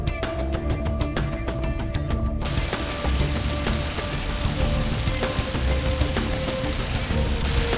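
Steady rain hisses throughout, with scattered drips and a faint mechanical clicking during the first couple of seconds.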